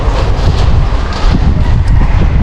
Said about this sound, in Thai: ตอนนี้ลมแรงทุกคน